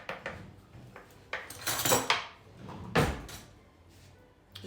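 A spoon and dishes clatter in a home kitchen while a pistachio tartlet is being made, giving several sharp metallic clinks and knocks at irregular intervals, close and fairly loud.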